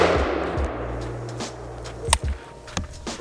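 An AK-47 rifle fires 7.62 rounds at a rifle armor test on a range: a few sharp, separate reports spaced about a second apart, moderately loud over a steady background rumble.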